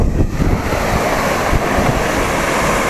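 Rushing water at Athirappilly waterfall in Kerala, a steady, loud, broadband roar with no pauses, close by and heard alone with no talk.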